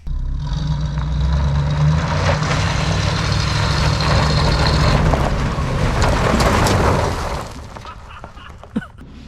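An old Pontiac Firebird, recovered after more than 21 years sitting in a field, runs with a loud, rough low rumble for about seven seconds, then the engine cuts off and quiets, followed by a sharp clunk.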